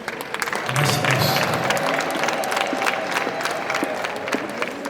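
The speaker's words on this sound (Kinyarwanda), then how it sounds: "amashyi menshi" Guests at a wedding celebration break into sustained applause and cheering, a dense, steady wash of clapping from a large crowd that lasts throughout, with voices mixed in.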